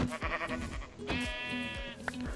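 Bleating sheep from a video game, taking hits in a tutorial on custom hittable items; several short, loud, nasal baas in quick succession, each struck cry repeated close up with no talking.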